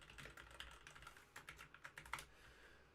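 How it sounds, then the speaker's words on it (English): Quiet, steady typing on a computer keyboard, a rapid run of light key clicks close by, with no talk. "I can just start typing like I do normally."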